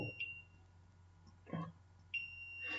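A multimeter in continuity mode beeps while probing a trace on a phone circuit board: two short, faint, high electronic beeps about two seconds apart, with a quiet murmur of voice between them.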